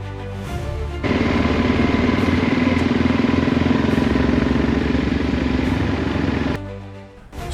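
A motorcycle engine idles close by at a steady mid-pitched rumble with a slight clatter, holding for about five and a half seconds before cutting back, with no voices over it.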